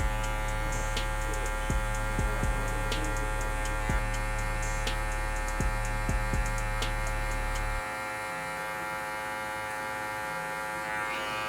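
Electric hair clippers buzz steadily and close during a low burst fade haircut, a constant electric hum with small clicks, the low drone dropping away near the end while the buzz continues.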